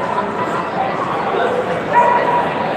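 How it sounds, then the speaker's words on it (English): Several dogs indoors yip and whimper almost continuously in a busy, steady chorus, with a voice talking over them. "there's all sorts of dogs in here"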